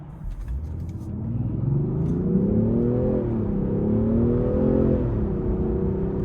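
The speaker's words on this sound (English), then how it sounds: "just the exhaust note sounds strong without being too much" A 2023 Range Rover Sport P360 twin-turbo engine revs up and holds a deep, smooth exhaust rumble, building in loudness and staying steady with no talking.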